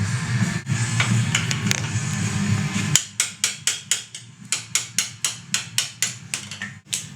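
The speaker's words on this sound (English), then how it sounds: "Just going to knock out the other bearing. So I'm just hitting this inside ring here of the bearing." A hammer knocks a bearing out of its housing by striking the inner ring, a rapid series of about fifteen sharp metallic blows repeating steadily and loud after a steady background hum.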